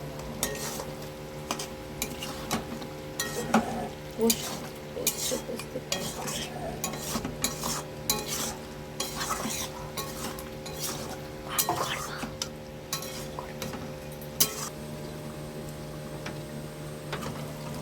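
Chicken curry with tomato being stirred in a pot, with repeated metal spoon scrapes and clinks against the pot over a low simmering sizzle, close and fairly busy, with no voices.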